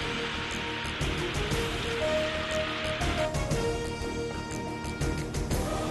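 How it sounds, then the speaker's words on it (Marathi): Heavy rain in Vasai pours down as a steady, dense hiss of water with a broad wash of splashing, continuous throughout, with faint tonal sounds briefly in the background. "वसईमध्ये सलग 4थ्या दिवशी धुवाधार पाऊस"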